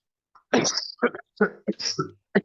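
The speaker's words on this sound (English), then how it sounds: "I'm just gonna cough." A few sharp coughs and throat-clearing bursts close by, separated by short pauses.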